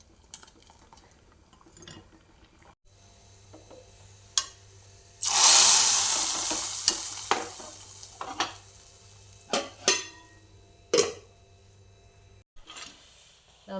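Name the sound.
tempering sizzling in hot oil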